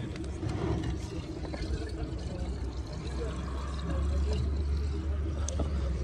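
Water runs from a coin-operated tap into a camper's water tank in Germany, a continuous gushing pour with a low rumble that deepens and grows fuller toward the end as the tank fills.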